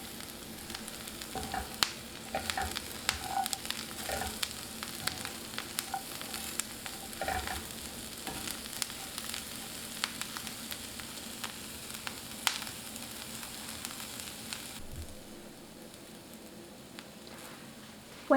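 Brussels sprouts sauté in a pan over medium heat, giving a steady crackling sizzle with scattered pops and light tossing clatter; the sizzle stays constant for most of the clip, then quiets slightly near the end.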